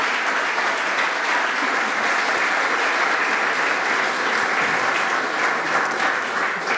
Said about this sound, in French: j'aimerais que vous l'applaudissiez parce que c'est vraiment un gros talent français